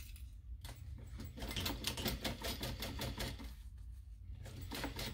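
A sewing machine stitches the lining piece of a small backpack, a fast, steady mechanical chatter close by, pausing briefly before starting up again.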